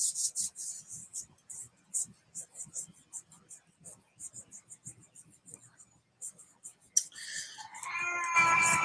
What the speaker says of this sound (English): there's our chorus from the kitty